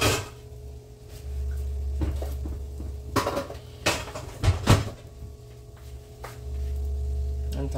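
Frying pans are handled in a home kitchen, with a few sharp metallic clanks and knocks clustered in the middle over a steady low hum, close by and moderately loud.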